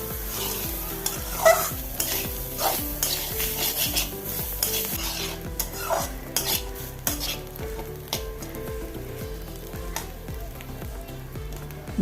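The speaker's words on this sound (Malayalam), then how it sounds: "ഒരു മുറി തേങ്ങ ചിരവിയതാണ്. നമുക്ക് എണ്ണയിലിട്ട് കൊടുക്കാം. നല്ലപോലെ ഇളക്കി കൊടുക്കുക." Freshly grated coconut sizzles in hot oil in a pan while a spoon stirs it, giving rhythmic scraping strokes over a continuous frying hiss, close and fairly loud with no voices.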